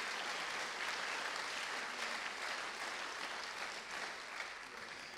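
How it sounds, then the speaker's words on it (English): Steady applause from an audience at hackathon opening ceremonies, a dense even clatter of many hands clapping that holds throughout and fades slightly near the end. "please give a really warm round of applause for them"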